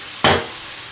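Beer poured into a hot frying pan used for cooking rabbit shoulders hits with a sudden loud hissing burst, then settles into a softer, fading sizzle.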